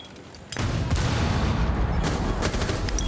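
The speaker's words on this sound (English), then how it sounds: "A lot of nades." Grenade blasts in Rainbow Six Siege during a professional esports match, a sudden loud burst followed by sustained rumbling explosions and crackling debris for several seconds, close and dense.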